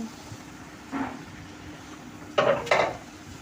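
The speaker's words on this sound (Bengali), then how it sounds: "ঝিঙেগুলো দিয়ে ভালো করে নাড়াচাড়া করে নিচ্ছি" Ridge gourd pieces are stirred in a cooking pan, with a few brief scrapes and knocks of the spoon against the metal over a low, quiet background.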